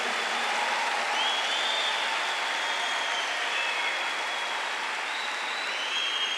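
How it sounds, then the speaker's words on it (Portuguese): A church congregation at a Frei Gilson Mass applauds forcefully and continuously, a thick, unbroken roar of clapping at constant loudness with faint tonal whistles drifting above it. "Aplaude forte, aplaude forte."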